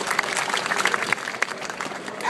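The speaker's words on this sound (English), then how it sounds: "How about a round of applause for Rachel?" A crowd at a photography show applauds a volunteer called to the stage, a short burst of dense, lively clapping at moderate volume.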